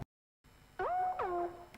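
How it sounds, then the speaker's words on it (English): The lead synth from a song: after a short silence, two bright, buzzy notes with pitch glides that bend and swoop, close and clear. "The next sound is the main sound you hear completely throughout the song, which is the lead synth"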